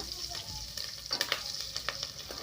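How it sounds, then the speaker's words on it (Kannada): Four lengthwise-slit green chillies fry in hot oil for egg biryani, a close, bright crackling sizzle broken by several sharp spits and stirring scrapes, with no speech. "ಇದನ್ನು ಕೂಡ ಸ್ವಲ್ಪ ನೀಟಾಗಿ ಫ್ರೈ ಮಾಡ್ಕೊಂಬಿಡೋಣ"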